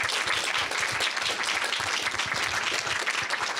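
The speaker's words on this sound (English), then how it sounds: "let's give a great round of applause to our speakers." An audience at a higher-education distance learning event applauds its speakers, with dense, sustained clapping from many hands filling the room at even loudness throughout.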